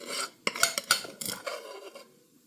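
A spoon stirs and scrapes stuck food at the bottom of a metal pressure cooker, giving close, rasping metallic scrapes and clinks in quick irregular strokes that fade toward the end.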